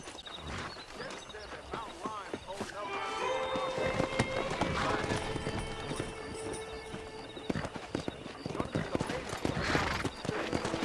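Horses galloping in the Western video game Red Dead Redemption during a horse wrangle: steady rhythmic hoofbeats with an occasional whinny, running under talk throughout.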